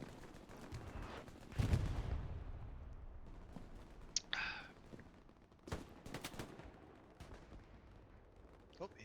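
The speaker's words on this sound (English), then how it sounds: "Oh, he hears gunshots" Gunfire in the video game Hell Let Loose: scattered distant shots and a few sharper cracks over a quiet background, with one heavier boom early and a brief whistling burst midway.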